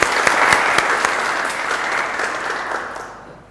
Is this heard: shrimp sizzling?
no